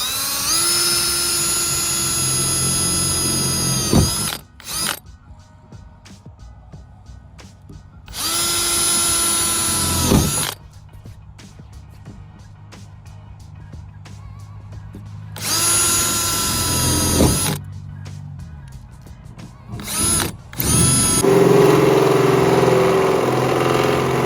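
A power drill bores into a car body in three loud, sustained bursts of several seconds each, with quieter pauses between them and no talking.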